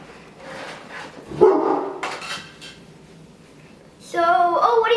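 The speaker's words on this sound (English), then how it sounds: "what are you barking at? What are you barking at?" A dog barks in a few sharp, close bursts during a Nerf war game at home, with people talking and moving around nearby.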